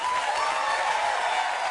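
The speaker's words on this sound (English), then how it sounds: "he gets a cheer from the audience" Talk show studio audience cheering and applauding, a dense steady roar of claps and voices filling the whole moment at even loudness.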